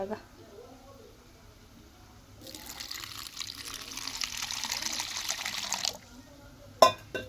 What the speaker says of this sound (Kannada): ಇದ್ರೊಳಗೆ ನೀರು ಹಾಕೊಂಡ್ರಿ